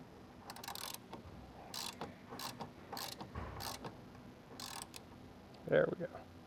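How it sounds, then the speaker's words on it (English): Torque wrench ratcheting on a strut tower brace nut of a G35, a series of soft, evenly spaced mechanical clicks close by, ending in a slightly louder clunk near the end; faint handling noise underneath. "Let me grab my torque wrench."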